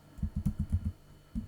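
Quick bursts of typing on a computer keyboard, a run of about seven close key taps, a short pause, then more taps, quiet and near.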